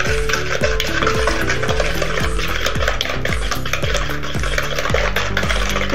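Sugar and eggs for a coffee cake batter being whisked in a bowl, a loud, fast, regular beating rhythm of repeated strokes that runs without pause, close up.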